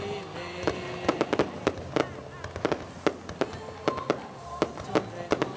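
Fireworks display over Hiep Duc district, Vietnam, at a liberation anniversary celebration: repeated sharp bangs and crackling bursts at irregular intervals, moderately distant, over a steady crowd and ambient background.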